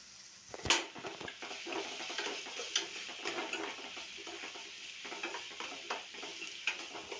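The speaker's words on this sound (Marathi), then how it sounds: "त्याला याला दोन तीन मिनटं परतायचं आहे" Potato and paneer sandwich filling being sautéed and stirred in a pan, with a steady sizzle and repeated scraping and clinking of a spoon against the pan, close and continuous, no voices.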